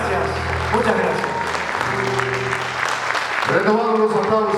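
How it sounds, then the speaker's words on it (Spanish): A concert crowd applauds at a patriotic music performance, broad continuous clapping under sustained tonal sounds and voices, with a held musical or sung tone returning near the end. "Retomando los aplausos, Adrián Morino Villalba"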